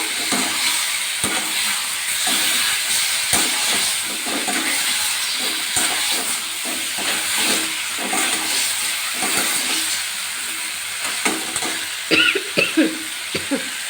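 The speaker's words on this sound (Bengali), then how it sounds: "এইবার আমি হালকা নাড়িয়ে নেব" Egg, potato and papaya curry with spices is stirred in a pan, producing a steady hissing sizzle with repeated soft scraping strokes, close up, with no speech.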